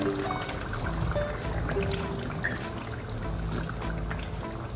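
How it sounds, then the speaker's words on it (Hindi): A full pack of cream being poured into a cooking pan of shahi eggs, a steady close liquid pour with soft trickling, continuous and moderately loud throughout. "अब हम इसमें डालेंगे क्रीम को हम पूरा पैक डाल देंगे इसमें।"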